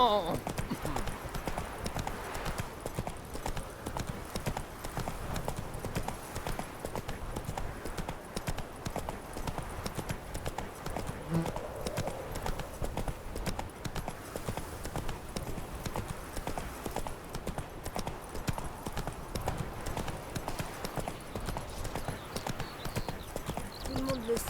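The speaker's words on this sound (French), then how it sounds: "Au galop, Ablette." Steady clip-clop of a horse's hooves galloping in The Witcher 3 video game, continuous and fairly loud throughout, with a voice speaking over it and occasional game sounds mixed in.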